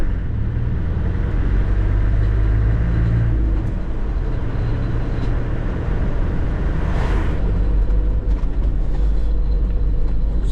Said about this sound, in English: So the truck's making quite a strange sound just when you're moving.